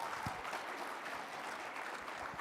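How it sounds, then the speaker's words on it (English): Applause from the audience at a veterans' honors luncheon, a moderate, steady patter of clapping heard across the room with a few low thumps, no speech on top. "You can give him a round of applause."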